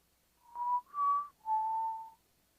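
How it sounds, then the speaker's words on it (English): Three clear whistled notes in a row, steady and tuneful, a short pause between each, heard alone against near silence. "And Someone whistled back."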